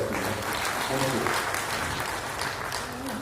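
Audience applause fills a hall at a Brahma Kumaris motivational event, dense steady clapping throughout with voices mixed in underneath.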